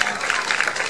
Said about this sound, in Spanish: Bien, un aplauso para Santa Rita